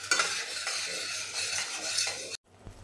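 Freshly grated coconut is stirred in a pan for coconut rice, a close scraping and rustling with a soft sizzle that carries on steadily, then stops abruptly near the end.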